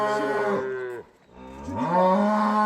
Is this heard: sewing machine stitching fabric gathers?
no